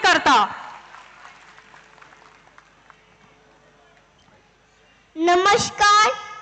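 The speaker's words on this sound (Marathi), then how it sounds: "आपल्या सगळ्यांच्या जोरदार टाळ्या नक्कीच व्हायला हव्या अद्वैत करता" An audience at a public event applauds a child performer, a soft, scattered patter of clapping that fades gradually. Voices speak loudly just before and just after it.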